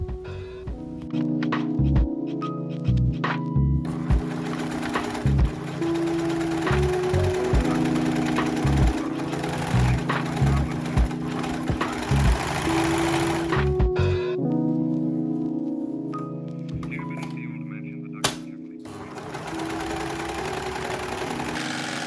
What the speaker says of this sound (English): Let's finish the edges with a lock sewing machine.